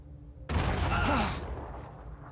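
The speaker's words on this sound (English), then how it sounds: "So let's go and fire a grenade in over there." A grenade fires and explodes in the tactical game Blood and Titanium: a sudden loud, booming blast breaks the quiet and rumbles for about a second before fading into a lingering low tail.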